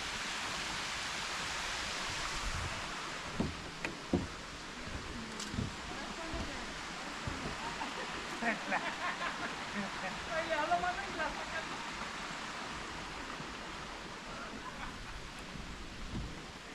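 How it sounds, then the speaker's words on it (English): Distant, steady roar of Texas's tallest waterfall, a broad even rush of falling water with faint voices over it. "Tallest waterfall in Texas."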